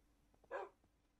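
A single short dog bark from a Minecraft dog, quiet and brief, with faint game background sounds around it.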